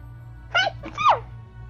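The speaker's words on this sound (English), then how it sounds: "I have to sneeze again" Two short sneezes in quick succession from a person playing the online game Elsword, close and fairly loud above a steady low hum.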